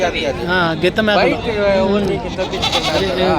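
Several goats bleat loudly and repeatedly up close, wavering cries overlapping one another, with people talking in the background at a livestock market in Byreddipalli.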